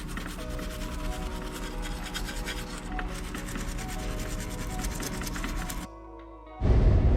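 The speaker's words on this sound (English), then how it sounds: "give it a really good scrub, because you're gonna put a new gasket on there." Vigorous close scrubbing of a Kawasaki engine's gasket mounting surface makes a continuous, rapid scratchy rubbing that stops abruptly near the end, followed by a short lull and a burst of different noise.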